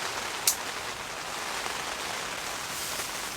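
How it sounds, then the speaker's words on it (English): Heavy rain drums steadily on a hot tent at a solo camp in wet weather, a dense, even hiss throughout with one sharp tap near the start. "I feel like it's raining harder than it was yesterday."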